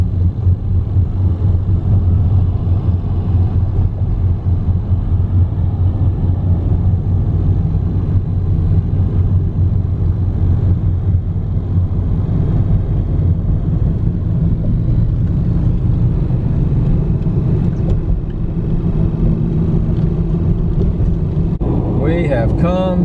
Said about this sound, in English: Traffic is starting to move